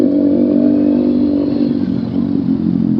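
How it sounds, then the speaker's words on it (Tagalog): A motorcycle engine drones steadily at moderate speed on a ride toward Aurora, Quezon, loud and close, with an even low hum and a slight wavering in pitch. "Hindi masyadong banat yung makina natin today guys."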